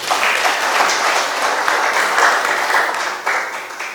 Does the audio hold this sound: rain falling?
no